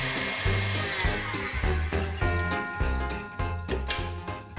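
An electric mixer whips egg whites to firm peaks for a Christmas pavlova, a loud steady whir with rhythmic bumps and rattles as the beaters knock around the bowl.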